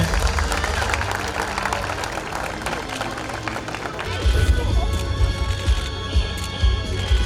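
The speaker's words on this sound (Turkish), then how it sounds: "Alkışlar eşliğinde" A crowd applauds on Ören beach as a championship trophy is raised for photos, with dense clapping mixed with voices and a louder, boomier surge partway through.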